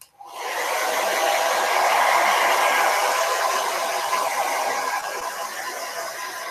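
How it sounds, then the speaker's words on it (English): A hair dryer blows steadily on white paint dots of a purple and green dot mandala painting, a loud, continuous whooshing that runs uninterrupted for several seconds with no other sounds. "I'm going to hair dry. Those white dots are not dry enough."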